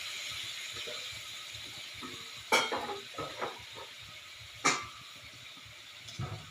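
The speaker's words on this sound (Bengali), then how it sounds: "জলগুলো দিয়ে আবার ভালোভাবে নেড়ে চেড়ে কিছু সময়ের জন্য ঢেকে দিব" Spoon stirring a broccoli, potato and soybean curry in a pan after water is added, with soft scraping, a few sharp metallic clinks and a faint background hiss, close and fairly quiet.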